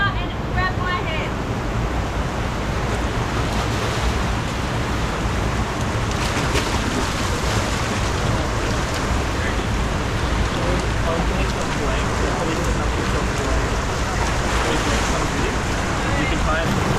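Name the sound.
river water flowing in a bushland canyon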